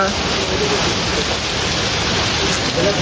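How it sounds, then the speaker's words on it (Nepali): Heavy rain pours down late at night in Birgunj, Nepal, a loud, steady, close wash of rushing water with no break. "पानी परेर रातिको 11 बजिसक्यो पानी नै रोक्दैन"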